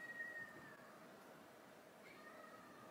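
A cat meows from behind a closed door, two or three plaintive, fairly faint calls over a quiet room background, with no talking.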